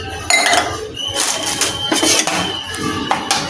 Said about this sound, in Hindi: ये चाय के बर्तन भी यहाँ पे गंदे पड़े हैं, ये मेरे को धोने हैं हाथ के हाथ।